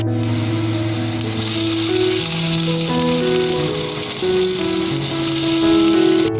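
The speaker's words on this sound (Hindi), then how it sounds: "अब इसमें मैं टमाटर डालने लगी हूँ। एक दरमियानी टमाटर चॉप की हुई डालूंगी।" One medium chopped tomato hits frying onions in a pan, setting off a steady close sizzle that runs through the whole stretch beneath tonal background music.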